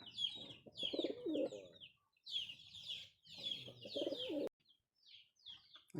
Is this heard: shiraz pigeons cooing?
yes